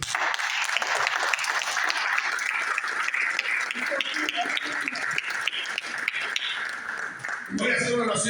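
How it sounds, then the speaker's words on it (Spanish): A congregation applauds for Christ during a Spanish-language church service, producing sustained dense clapping that fills the room for several seconds before a brief shift near the end. "Denle un aplauso a Cristo."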